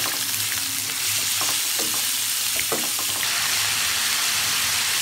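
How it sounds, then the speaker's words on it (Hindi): Marinated chicken fries in oil in a pan, giving a steady close sizzle with a few stirring scrapes and clatters, no voices. "पैन में हमने चिकन शामिल कर दिया, बस अब इसको अच्छे से हम फ्राई कर देंगे।"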